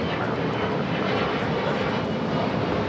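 An Italian-made aircraft takes off from runway 25 at LAX, making a loud, close, continuous engine roar that fills the whole stretch without a break.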